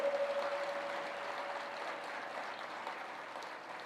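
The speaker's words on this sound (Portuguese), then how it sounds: "Aplauda o nome de Jesus" A church conference audience applauds in a steady, fairly soft wash of clapping, with a brief tonal hum at the start that fades out.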